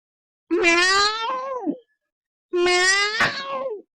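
A female cat gives two drawn-out, clear meows about a second apart, close and loud, with silence around them and no talking.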